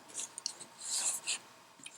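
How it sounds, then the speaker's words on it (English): A few quick, faint snips of scissors cutting through yarn, short crisp bursts with pauses between, no voices. "You can take your scissors, cut that little tail"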